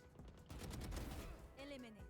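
Rapid automatic gunfire sprays in Valorant as a dense, continuous burst that runs for about a second. A voice follows right after it.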